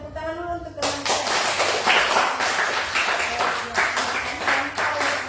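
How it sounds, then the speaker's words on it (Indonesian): A classroom of students claps for a classmate after a demonstration of a gymnastics pose, with dense, steady applause that starts abruptly after a short voiced sound and continues loudly throughout. "ada yang bisa memberikan tepuk tangan dulu untuk teman saya"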